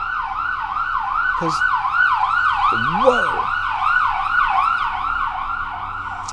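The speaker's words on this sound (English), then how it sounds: "I always think of sirens" An emergency siren wails in a fast, repeating up-and-down cycle, loud and steady throughout, while someone briefly exclaims partway through.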